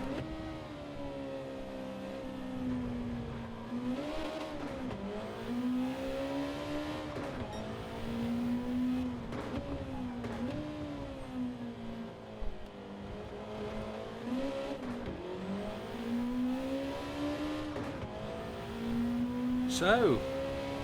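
A race car's engine in Gran Turismo 7, a 1992 Honda NSX with an engine swap in a Le Mans 700pp race, drones steadily and rises and falls in pitch through gear changes, with commentary voices over it.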